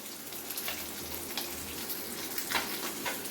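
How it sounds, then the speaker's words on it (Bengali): Koi fish pieces fry in hot oil for a Bengali koi fish curry, giving a steady, close sizzle with crackling pops rising and falling throughout and no talking. "মাছকোনা ভেজে নিচ্ছি আমি"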